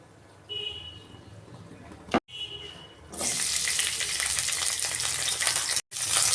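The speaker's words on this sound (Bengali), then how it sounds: "সবজিগুলো ভাজবো" Vegetables such as cauliflower and carrot drop into hot oil in a wok, a quiet start then a sudden loud, crackling sizzle that continues steadily, briefly broken by two short gaps.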